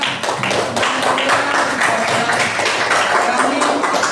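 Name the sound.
applause in a classroom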